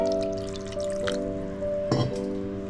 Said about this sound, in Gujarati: હવે એમાં થોડો અડધો કપ જેટલું પાણી ઉમેરીએ આપણે